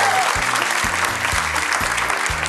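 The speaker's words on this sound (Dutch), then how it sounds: "Geef haar een applaus, Joy!" An audience applauds at a student competition event, a dense burst of clapping that holds steady throughout with no voices.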